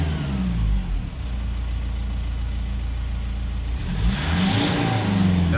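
A car engine on a diesel with injector faults hums steadily at low revs, then climbs into a louder rev near the end, heard up close with no talking.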